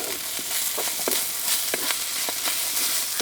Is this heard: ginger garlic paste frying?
yes